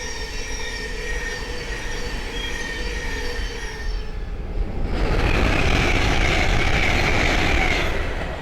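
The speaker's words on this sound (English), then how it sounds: "the next train to pass by is Thameslink 700 from Cambridge to Brighton" Trains passing on the East Coast Main Line at Great Wymondley, a Thameslink Class 700 and a Hull Trains Class 800: a steady loud rush of wheels and rail with high squealing tones, swelling louder and brighter partway through, no talking.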